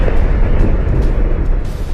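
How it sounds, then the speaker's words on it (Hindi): A massive explosion at an oil refinery in Texas roars as a dense, continuous rumble, loud and broadband, sustained with no break and no voices. "अमेरिका के राज्य टेक्सास में 23 मार्च को एक बड़ी तेल रिफाइनरी में धमाका हुआ"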